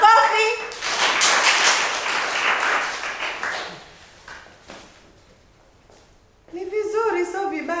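Schoolchildren in a classroom burst into loud, dense clapping that lasts about three seconds and then trails off into a few scattered claps, while a voice talks before and after.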